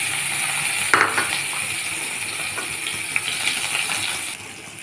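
Green chillies and spices such as mustard seeds and fennel crackle and sizzle in hot oil, a steady bright frying hiss with a few sharp pops and small clinks, close and alone without talk.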